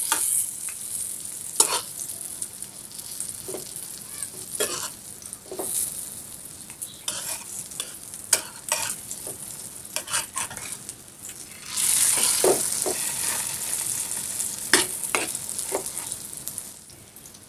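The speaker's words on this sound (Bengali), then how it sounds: "ডিমটা কিন্তু আমি 2 পাশে এভাবে তুলে দেব" Egg and flour snack frying in a pan: a low, steady sizzle punctuated by repeated scraping and tapping of a utensil, the hiss swelling louder toward the end.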